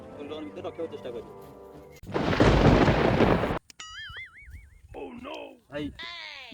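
A loud burst of thunder rolls in as rain arrives during an outdoor cricket game, preceded and followed by excited shouting and talk from the players.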